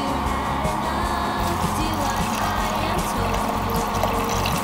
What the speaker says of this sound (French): On va ensuite couvrir à hauteur avec de l'eau.